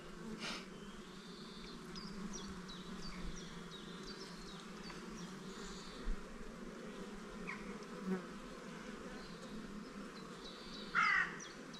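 Honeybees buzzing around an open hive, a steady close drone of many wings filling the scene, with a few faint bird calls and soft knocks.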